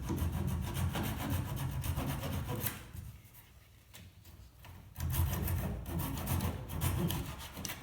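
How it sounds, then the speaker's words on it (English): A hand saw rasps back and forth through plywood in quick strokes, pausing briefly midway before the rough sawing resumes close by. "I don't really like sawing plywood with this"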